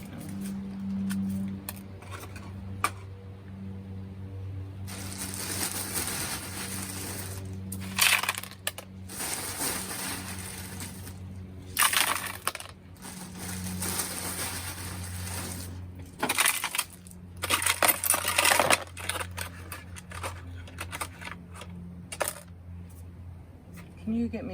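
Ice being piled into a container for ice tie dye, with clattering, crunching cubes in bursts of tumbling and knocking against the vessel over a steady low hum, with a few louder spills.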